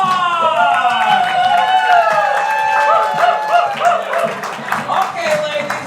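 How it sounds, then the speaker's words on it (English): An audience greets the Do-Gooders with clapping mixed with loud whoops and high excited shouts, close and lively, the yelling rising and overlapping over scattered hand claps. "Give them a round of applause!"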